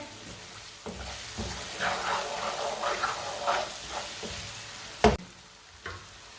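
Turmeric and coriander powder cook in a pan for aloo matar gajar sabzi, with a soft sizzle, scraping stirs, and a sharp clank of a utensil near the end.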